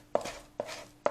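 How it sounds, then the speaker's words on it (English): A knife rough-chops bacon on a board, giving three sharp, separated chops in an even rhythm, close and clear with no talk. "We're just going to rough chop this."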